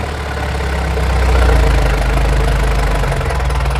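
A Standard tractor engine runs steadily at close range, belching heavy smoke, a loud continuous low rumble with a rough knocking beat and no voices.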